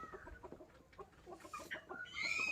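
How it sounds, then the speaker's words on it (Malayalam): A few domestic chickens cluck and murmur nearby in short, irregular bursts, fairly quiet, with a sharper call rising near the end. "നമ്മളെ വീട്ടിലുണ്ടായിരുന്ന കോഴിയാണ് കേട്ടോ"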